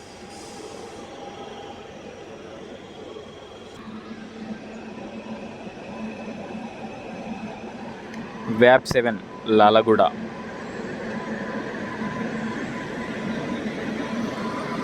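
Garib Rath Express running from Cherlapalli toward Yesvantpur rumbles past steadily, with a couple of loud, sharp squealing or horn-like bursts partway through, while a person speaks over the train noise.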